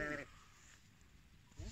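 A yellow-headed ewe's lamb bleats faintly in two brief calls, one at the start and one at the end, with quiet farmyard background between.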